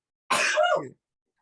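A single short sneeze, close and fairly loud, with quiet before and after.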